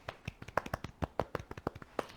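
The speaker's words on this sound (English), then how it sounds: "Should we give a quick little golf clap?" A small group claps lightly and politely, a quick patter of soft, uneven claps lasting a couple of seconds.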